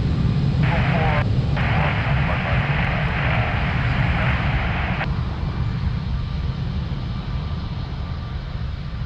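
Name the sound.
airliner taking off at Lisbon Airport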